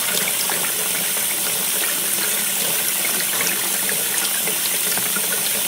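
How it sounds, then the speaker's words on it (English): Cold tap water runs over a slab of cured bacon in a kitchen sink, a steady close hiss and splash that continues evenly throughout. "get it over to the sink and run it under some cold water"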